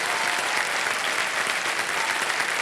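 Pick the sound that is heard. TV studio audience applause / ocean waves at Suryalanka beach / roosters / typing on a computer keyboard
TV studio audience applause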